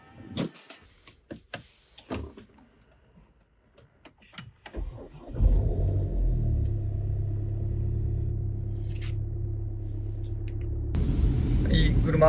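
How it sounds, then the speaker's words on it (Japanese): Car interior on a snowy bumpy road, recorded on a phone's built-in mic: steady loud engine and road rumble with occasional jolts, following a stretch of speech and knocking sounds. "結構車の音うるさかったり、ところどころこうガタガタっと道がなってるんで"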